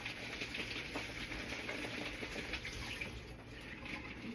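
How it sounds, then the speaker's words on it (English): Cold tap water runs steadily over raw large shrimp in a rinse, a continuous close hiss of flowing water with no talk. "you rinse the shrimp under cold water"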